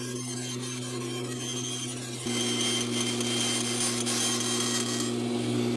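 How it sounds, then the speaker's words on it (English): Bandsaw cutting a workpiece slightly oversized for a clock build, a steady close hum with a grinding, rasping cut that grows slightly louder partway through. "So I'm going to cut this slightly oversized"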